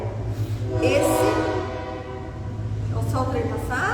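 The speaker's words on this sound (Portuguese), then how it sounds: "Olha o trem de novo" A passing train sounds its horn in a long, loud blast with steady rumbling underneath, heard from nearby, followed by a second shorter horn note.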